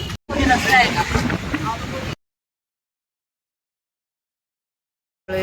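A boat ride off Kanyakumari, with a loud wind rush buffeting the microphone and voices mixed in. It lasts about two seconds and then cuts to silence.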